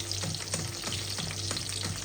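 Eggs fry in a pan over low heat for breakfast, giving a steady close sizzle with faint crackles and soft stirring scrapes.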